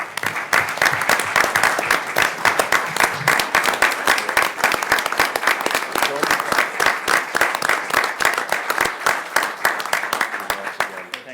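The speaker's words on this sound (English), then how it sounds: "give Detective Sergeant Robinson a large round of applause on his accomplishment in his career." Sustained applause from a room of attendees at a city council meeting, dense, steady clapping holding at an even loudness throughout with no break.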